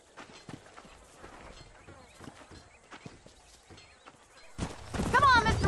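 Horse hooves clip-clop and a horse whinnies in the Red Dead Redemption video game, outside Armadillo, under game dialogue, with a louder burst of hoofbeats and neighing near the end.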